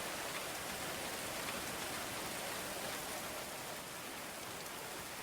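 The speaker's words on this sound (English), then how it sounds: "I really like this rain" Steady rain falling in the medieval colony-building video game Going Medieval, a constant soft hiss of drops on surfaces with no pauses or voices.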